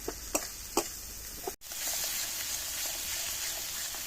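Spices and small shrimp fry in a pan for a banana stem curry. A few scraping stirs come first, then a steady, fairly soft sizzle.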